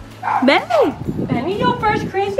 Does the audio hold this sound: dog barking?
yes